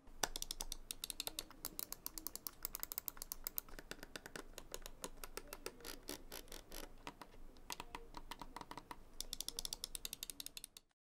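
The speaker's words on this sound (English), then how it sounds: "we're going to go ahead and do a sound test of the Basilisk Ultimate" Razer Basilisk Ultimate wireless gaming mouse being clicked: rapid, crisp clicks in dense bursts with brief pauses, close and faint, no voices.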